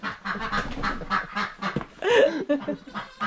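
Several ducks honk and quack close by in irregular bursts, with one louder, drawn-out call partway through.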